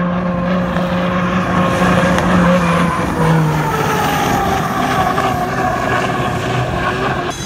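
A racing boat makes a loud, sustained engine roar during a test run at a regatta, close and continuous with shifting pitch, heard alone without talking.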